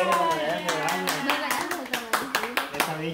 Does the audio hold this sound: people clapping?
yes